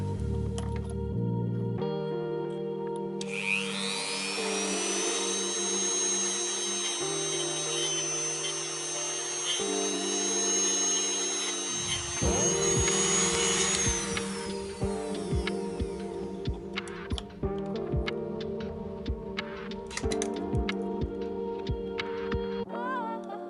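A grinding wheel shapes the end of an Oakley blade, a steady high whine rising from about three seconds and holding for roughly ten seconds before dropping away, leaving motor hum and intermittent tool noise.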